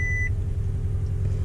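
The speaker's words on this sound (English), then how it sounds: "Why is this still beeping?" A short electronic warning beep inside the cabin of a 2019 Toyota Tundra TRD Pro, heard once at the start over a loud, steady low engine rumble.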